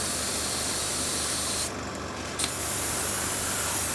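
A 0.5mm airbrush sprays a paint shadow coat in a steady, loud, close hiss that cuts out briefly in the middle and then resumes.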